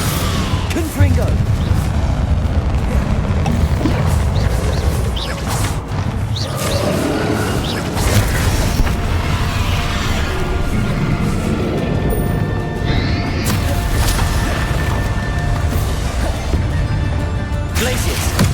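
Hogwarts Legacy combat with Bombarda and Confringo explosion spells: continuous loud crashes and booming blasts layered with dense game effects, a voice talking over the action throughout.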